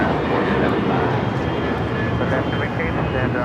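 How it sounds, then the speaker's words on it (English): A United Airlines Boeing 737-900ER jet takes off at Los Angeles airport, its engine roar loud and sustained as a broad, steady rumble across the whole clip, with a voice speaking over it. "This takeoff is United Airlines 2729, taking off to Houston Intercontinental on the 737-900ER"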